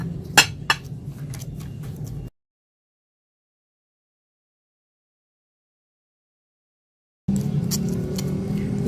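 A spoon clinks and scrapes against a bowl as petroleum jelly, almond oil and cucumber powder are stirred together: sharp light taps and rattles, then several seconds of total silence, then the stirring clatter resumes.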